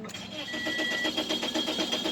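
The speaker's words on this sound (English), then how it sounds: "Now I'm cranking it." A 2006 Toyota Corolla 1.8L engine cranks without catching, a steady rapid churning rhythm from the starter that continues throughout, with a person talking over it.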